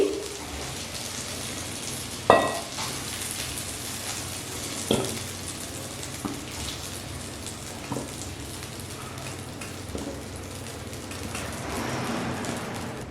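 Potatoes frying gently in oil over a very low flame, a soft steady sizzle with a few sharp clinks and taps from utensils scattered throughout, no talking.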